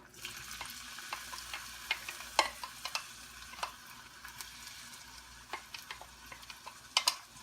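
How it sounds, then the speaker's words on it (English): Steady crackling sizzle of ground beef frying in an oiled pan, with occasional stirring scrapes and sharper pops, no talking. "put a little bit of oil on the pan, and we'll go ahead and dump the beef in"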